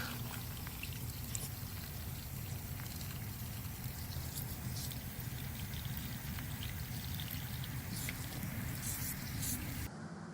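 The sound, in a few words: water trickling into soil bags for planting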